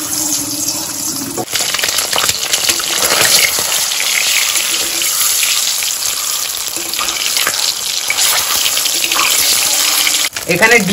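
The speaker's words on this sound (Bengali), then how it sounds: "এখানে ডিমটা আমাদের ভাজা হচ্ছে, ডবল কুসুমের ডিম।" A double-yolk egg fries in a pan on an old home kitchen setup, giving a loud, steady sizzle throughout with a few brief clatters near the start and end.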